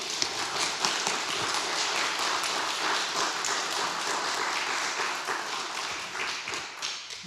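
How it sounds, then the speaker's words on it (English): Book launch audience applauding author Brenna, a steady wash of many hands clapping at moderate distance, sustained evenly throughout and tapering slightly at the close. "I think we should give Brenna a round of applause."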